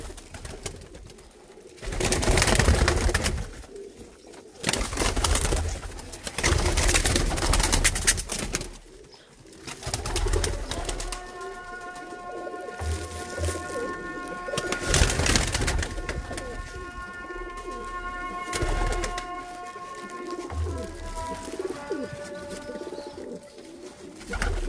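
Breeder pigeons in a Sialkot loft coo in repeated low throaty calls, with bursts of wing and cage noise and a drawn-out tonal call in the second half, no one speaking.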